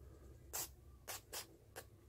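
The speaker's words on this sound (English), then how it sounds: "We're going to spray the inside of the slide here." Four short, close hissing bursts of spray lubricant go into the inside of a pistol slide, each quick blast separated by brief pauses.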